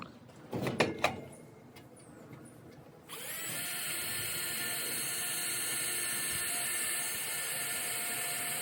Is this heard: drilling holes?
yes